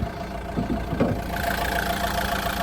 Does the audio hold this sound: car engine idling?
yes